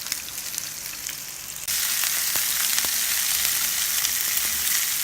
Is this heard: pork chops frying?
yes